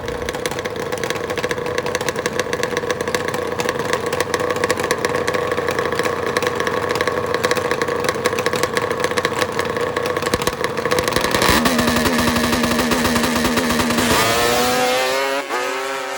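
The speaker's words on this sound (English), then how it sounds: "Two Kawasaki H2 750s ready to go." Two Kawasaki H2 750 two-stroke motorcycles rev hard at a drag race start line, a loud sustained buzzing wail that holds steady, then rises sharply in pitch as the throttles open near the end.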